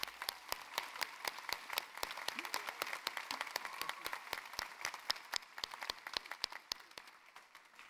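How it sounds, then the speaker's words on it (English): An audience claps at a university graduation ceremony in Townsville, the applause fairly faint and thinning over time, with distinct individual claps standing out sharply in an uneven rhythm. "I would like to ask the audience to show your appreciation with a round of applause for Mr."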